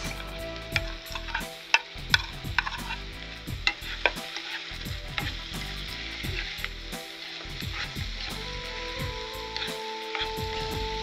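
Prawns are tossed into a hot pan and fry with a steady, close sizzle, broken by repeated scraping stirs and occasional clanks of a utensil, no voices.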